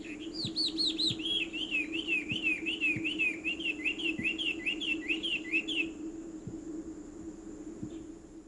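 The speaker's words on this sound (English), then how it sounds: "males perch high on trees and sing a complex song to attract females" A male Taiwan hwamei perched high in a forest sings a long, complex run of looping, varied whistled phrases for about six seconds, over a steady drone of insects and faint ticking, then stops while the insect hum continues.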